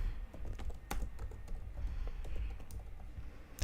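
Fast, uneven typing on a computer keyboard, with sharp key clicks and a few heavier strokes, fairly close and alone.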